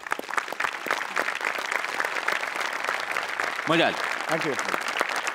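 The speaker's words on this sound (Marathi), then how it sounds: "सेटिंगवाल्यांसाठी सुद्धा एकदा टाळ्या व्हायला पाहिजे." Studio audience applause for the stage set crew at a Marathi comedy show, a steady dense wash of clapping running throughout with someone speaking briefly over it.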